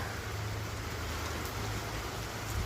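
Heavy monsoon rain falling steadily in the Khanna area of Punjab, a continuous broadband hiss with low rumble underneath, loud and unbroken throughout with no voices.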